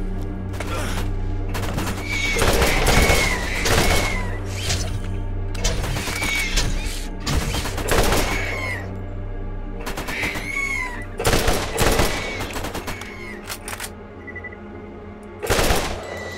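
Automated turrets in Borderlands unleash long bursts of rapid gunfire, sharp cracks stacking into fusillades that come in waves, with brief lulls and a steady game hum underneath.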